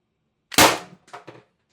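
One sharp, sudden pop of an Umarex TR68 less-lethal launcher firing a 7.5 g projectile, followed by a couple of fainter clanks as the shot lands or echoes.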